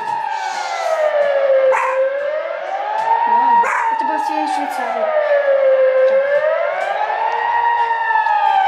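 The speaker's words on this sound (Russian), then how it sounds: "У нас тут какую-то сирену включают." A Swiss civil defense siren test wails loud and steady, rising and falling in long slow sweeps, while people talk briefly over it.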